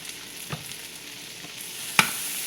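Unsalted sweet butter sizzles and spits in a pan with softened vegetables. A steady fry hiss carries on throughout, broken by a few soft stirring knocks and one sharp clink near the end.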